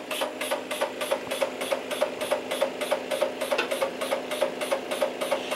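An STA Compact lab analyzer's pump dispenses a run of rapid, evenly spaced mechanical pulses through a needle, a steady close rhythmic clicking over a constant whirring hum.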